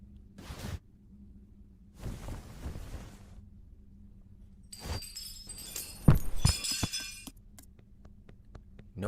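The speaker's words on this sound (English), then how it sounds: "Nobody in the house hear all that glass?" Glass breaks in an animated horror short, a sudden crash and tinkling of shards after a few soft thumps, the shattering burst fairly loud and brief against a quiet background.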